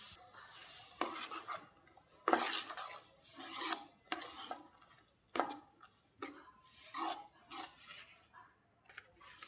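A spoon stirs a chili powder mix in a pan for Maggi noodles, giving a series of scraping, clinking strokes against the metal at an uneven pace, close up and with no talking.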